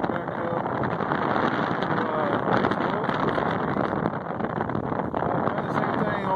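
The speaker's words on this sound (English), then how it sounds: "Wind. It's pretty windy." Strong gusty wind roars steadily across an outdoor microphone on a very windy day in a yard with a compact tractor backhoe, a dense continuous rush with no break.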